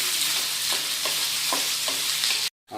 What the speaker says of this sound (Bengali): আর পেঁয়াজটা আমরা ততক্ষণ ভাজবো যতক্ষণ পেঁয়াজটা ব্রাউন কালার না হয়ে যায়।